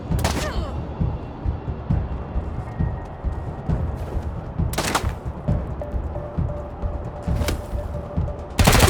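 Gunfire in the video game Wasteland 3: loud, dense bursts of shots and automatic fire with sharp cracks and thuds, repeated through the whole stretch over a busy combat background.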